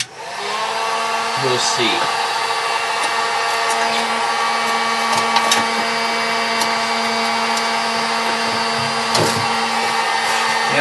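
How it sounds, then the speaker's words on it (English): A power sander strips old paint from a car panel during a Duster restoration, giving a loud, steady, continuous whine close by. A short spoken remark comes near the start. "I can take my sander and sand this paint off."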